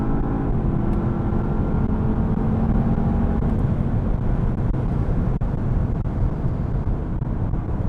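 A 2022 Porsche Panamera GTS with a V8 accelerates on the open road, heard from inside the cabin as a steady, loud, low engine drone mixed with road and wind noise throughout.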